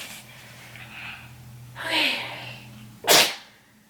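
A single sharp sneeze bursts out after a couple of softer breathy sounds, with a low steady hum in the background.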